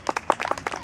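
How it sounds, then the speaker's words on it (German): Short burst of applause for a child at a children's seminar for the visually impaired, several quick irregular claps close by from a small group, with no talking over it. "Applaus für Janka!"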